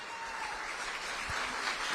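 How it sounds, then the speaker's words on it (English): Applause at an Orange County town hall with Mayor Jerry Demings and Congressman Maxwell Frost, as council members stand, steady and moderately loud across the whole stretch with no voices over it. "give them a round of applause."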